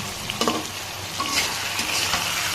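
Fried rohu fish pieces stirred into an eggplant curry in a pan, with steady close sizzling and a few scraping stir strokes, no talking.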